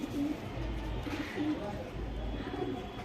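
A pigeon, a good-lineage female with deep blue shading, coos softly several times in a low, rhythmic pattern against steady background noise at close range.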